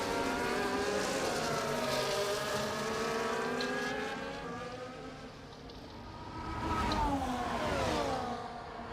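Ferrari- and Mercedes-powered F1 cars in the F1 24 racing game scream past side by side, high engine whines rising and falling through gear changes, loud and close, with no talking.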